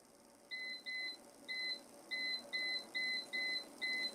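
A kitchen timer gives eight short electronic beeps in a fairly even rhythm as it is set while baking brownies, clear and close against a quiet room with no talking.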